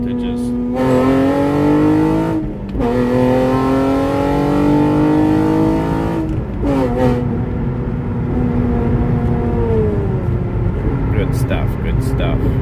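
An Acura TL tuned with Ktuner pulls hard through third gear, its engine note climbing in a loud, steady rising sweep with brief breaks at shifts or lifts, close and continuous throughout.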